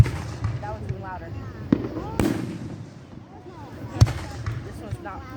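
Fourth of July fireworks burst nearby with several sharp, loud booms amid distant crackling and popping, while people talk and exclaim throughout.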